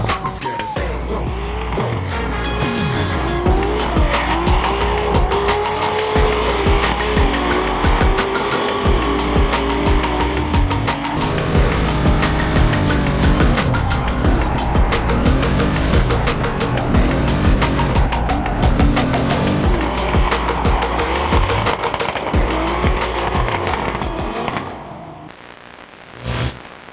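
Drift cars at the DMP Finals in Poznań run a tandem drift, engines roaring loud and continuous with long wavering tire squeals and screeching skids for nearly half a minute before fading out.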